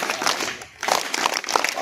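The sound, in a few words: students applauding in a classroom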